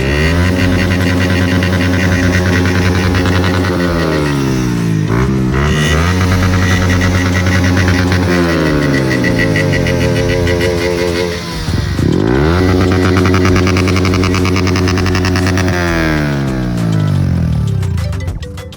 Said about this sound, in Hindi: लाउड भाई का एग्जॉस्ट में तो पूरा लाउड ही मार रहा है।